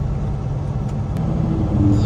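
Car driving on a road in brutal winter weather with ice pellets, a low, steady engine rumble and tire noise growing slightly louder as it nears, with no talk.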